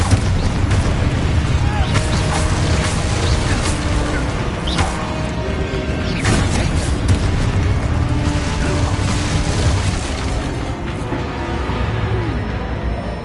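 Confringo and Descendo spell blasts in the Hogwarts Legacy game hit as a steady run of loud, booming explosions over a dense wash of battle noise, with no pause across the stretch.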